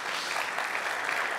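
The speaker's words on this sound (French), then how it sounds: "n'hésitez pas à l'applaudir bien fort" Steady applause from an audience at a conference session, a brief even wash of many hands clapping with no pauses.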